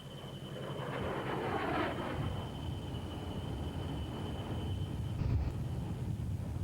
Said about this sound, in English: Barry Hempel pushes the former Eastern Bloc country jet fighter across a beautiful blue sky.